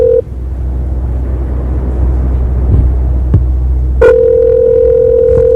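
A ringback tone sounds on an outgoing call to a McDonald's in Montgomery, Alabama: a steady electronic tone plays at the start, cuts off briefly, then returns and holds to the end over a low, rumbling line hum.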